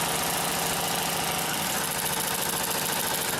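Consew 744R-30 long-arm walking foot industrial sewing machine stitching marine fabric, a steady loud mechanical whir with a fast rhythmic needle chatter running continuously and up close.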